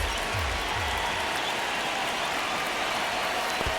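Dense, steady roar of a stadium crowd in MLB The Show 26 during a Texas Rangers vs Athletics game, a continuous wash of cheering and clapping at even loudness throughout, with no voices standing out.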